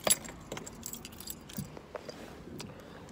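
Keys on a new key ring jangle and clink in irregular bursts inside a car on a cold day, close and fairly loud against a quiet background.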